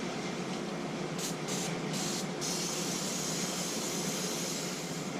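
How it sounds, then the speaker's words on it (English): Brake cleaner sprayed onto grease on a Can-Am Outlander 850 ATV axle during boot replacement, a steady loud aerosol hiss lasting several seconds, with a few brief pulses near the start before one continuous spray. "Brake cleaner cleans grease."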